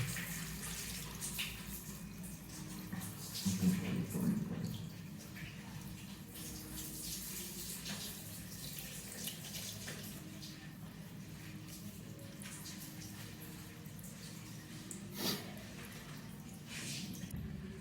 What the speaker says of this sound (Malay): Kemudian siram mayat dengan air biasa dari ujung kepala sehingga ke ujung kaki.